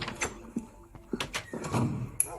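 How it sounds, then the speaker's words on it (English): A door opens in Minecraft during a puzzle room map, a few short clunky knocks and a creak heard close, with a brief sharp click near the end and no talking. "You want to open the next door and keep going?"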